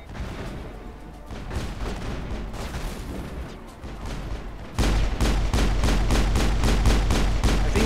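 Video game gunfire in Mass Effect: rapid bursts of weapon shots, loud and close, becoming a dense, rhythmic volley of repeated shots in the second half.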